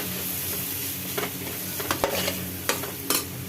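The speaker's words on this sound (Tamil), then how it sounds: "இப்போ எல்லாத்தையும் சேர்த்து மிக்ஸ் பண்ணிக்கலாம்." Tomato, curry leaves and spices frying in a pan for green moong dal rice, with steady close sizzling and a handful of sharp spoon scrapes and stirring knocks.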